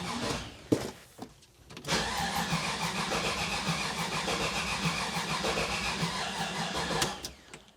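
A Pontiac Trans Am engine, LT-swapped, cranks on a weak, nearly dead battery with a few stuttering tries, then a long sustained mechanical churning that cuts off near the end.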